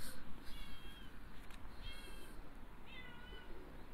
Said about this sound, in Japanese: ちょっと声が大きい猫がいますね